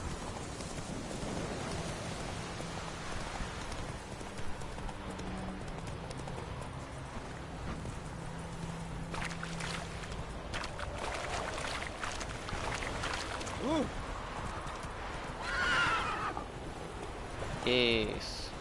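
A horse in The Witcher 3 game trots and gallops with steady clip-clop hoofbeats under continuous rushing ambience, followed by brief whinnying calls near the end, while someone talks over it in Portuguese.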